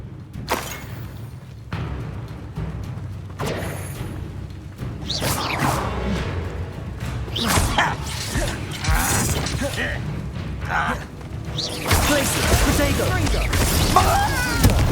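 Magic spell effects from the video game Hogwarts Legacy, including ice, fire and disarming spells, bursting out as a rapid series of whooshes, booms and crackling blasts over a low, dense game background, growing louder and busier toward the end.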